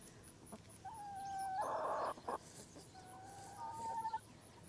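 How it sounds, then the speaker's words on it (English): Chickens in a backyard garden give drawn-out clucks and a louder squawking burst, fairly faint with steady outdoor background noise and no talk. "It's a chicken lineup."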